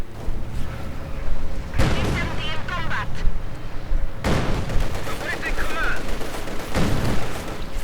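Battlefield gunfire in Company of Heroes 2, a World War II strategy game, with heavy booming shots and rattling bursts landing several times over steady combat noise, faint unit voices mixed in.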